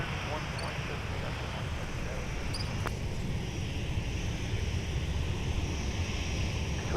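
A SkyWest airliner takes off from runway 17 at Minneapolis airport: a steady, distant broadband jet roar holds evenly from start to finish with no distinct peaks.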